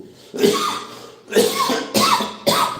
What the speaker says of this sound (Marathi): कारण मला बोलता येत नाही बोलले की खोकला लागलाय